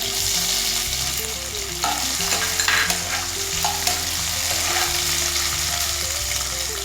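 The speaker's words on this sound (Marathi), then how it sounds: "ते शेंगदाणे चांगले भाजले की आपण त्याच्यात उकडून घेतलेला बटाटा घालूया।" Boiled potato fries in hot oil with roasted peanuts, a steady close sizzle throughout with repeated stirring scrapes and occasional clacks of a spatula against the pan.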